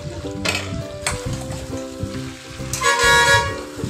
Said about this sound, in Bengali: একটু নেড়ে নিয়েছিলাম আমগুলো তেলের সাথে